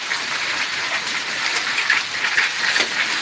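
Large hailstones mixed with heavy rain pound down in the village of Rajia, making a dense, close, constant hiss with sharp scattered impacts. No voices.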